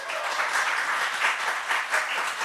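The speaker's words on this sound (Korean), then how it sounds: "박수 한번 쳐주세요." Brief burst of congregation applause during a church prayer service, dense, even clapping from many hands, moderately loud and without speech.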